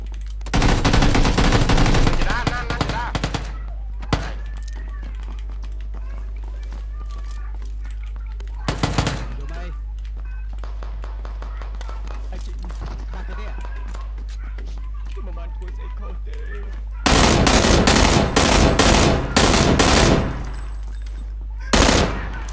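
Loud bursts of gunfire from the battle royale game PUBG, with long rapid volleys at the start and near the end and a couple of short shots between, over a steady low game hum.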